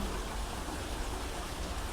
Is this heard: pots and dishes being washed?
no